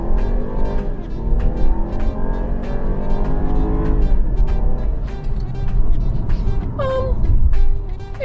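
A base BMW 520i with a 2-liter turbo four-cylinder of 137 kW accelerates hard up a ramp, its engine note sweeping upward through gear changes, loud and close, with a brief high chirp near the end.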